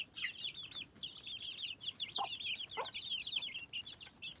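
Free-range chicks cheep in rapid, high repeated peeps, several birds calling over one another at close range with a few lower clucks mixed in, and no one speaking.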